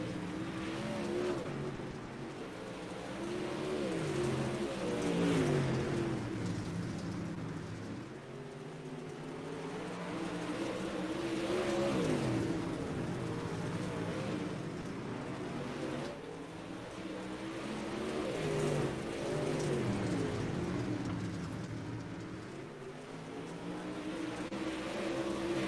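Modified touring race cars circle Kern Raceway in a sim racing game, engines droning and revving in steady waves as the pack rises and falls through laps, with no one talking.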